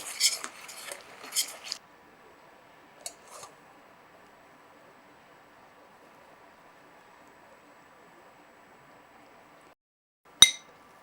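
Metal spoon clinking against a pan of thickened jaggery syrup for ukkarai: a few sharp clinks and scraping stirs at the start, a quiet stretch, then one final bright clink near the end.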